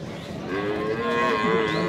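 A large buffalo at a busy cattle market in Rajshahi gives a long, loud, close moo, with the crowd murmuring faintly behind it.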